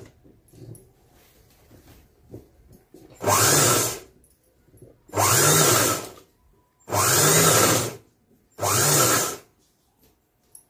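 Sewing machine stitching a blouse sleeve, running in four loud, steady whirring bursts of roughly a second each, separated by short pauses and faint handling noises.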